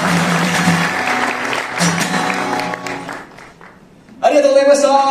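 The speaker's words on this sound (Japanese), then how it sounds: "皆さん手拍子ありがとうございました" Audience clapping along in rhythm at a forestry association's founding forum in Hokuriku, steady and fairly loud beneath music, fading out before a burst of louder sound at the end.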